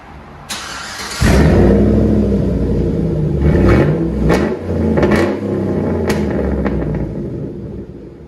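A loud 2008 GMC Sierra pickup truck with straight pipe exhaust fires up and revs several times, deep booming rumble with sharp throttle blips, close by.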